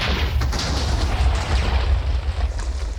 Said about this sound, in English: So to activate, just get normal TNT, it just works.